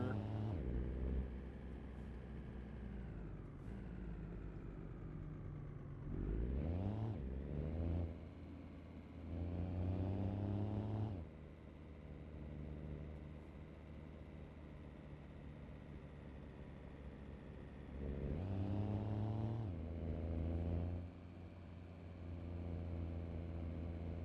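A Volvo VNL truck with an 815 hp 3406 engine in a trucking video game drones steadily, with several rising revs and gear-shift drops near six, ten and nineteen seconds; fairly quiet overall.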